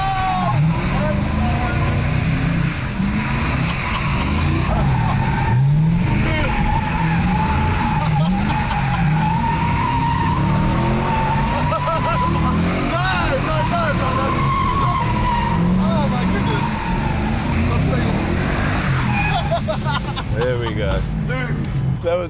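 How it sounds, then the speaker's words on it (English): A car drifts on blacktop, tyres skidding sideways with a sustained loud screech over a roaring, revving engine that rises and falls throughout, with people talking over the noise. "It's an art of cornering and interlinking while going sideways, blowing smoke, and creating a bit of havoc on the blacktop or the track."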